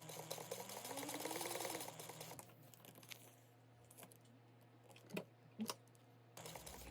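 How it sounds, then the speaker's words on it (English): A sewing machine runs in a quick, busy burst stitching down the sides of fabric bag tabs, then falls quiet to a faint hum with a few soft clicks and handling taps before starting briefly again. "you're just gonna sew down each side"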